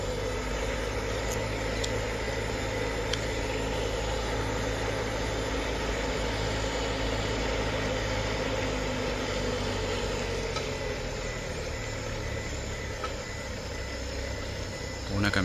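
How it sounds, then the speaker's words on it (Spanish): A tractor engine rumbles steadily as it makes its way over a bridge during a farmers' protest in northern Misiones, with a vehicle idling nearby and faint talk mixed into the continuous low drone. "Viene un tractor."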